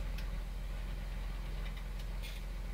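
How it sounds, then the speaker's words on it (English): A John Deere 7290R tractor engine idles steadily in Farming Simulator 17 with a low, even, quiet rumble and light ticking throughout, with no voices over it. "Quite quiet, this tractor, yeah."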